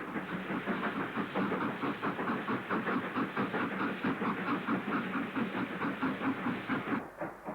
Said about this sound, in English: The banking is with 3 units, a 9F and a pannier